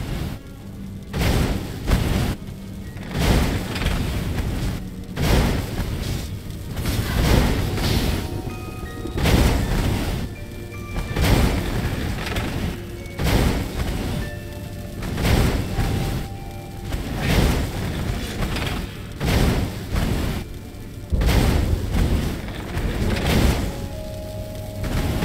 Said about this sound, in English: Energy cannons, the last argument of kings.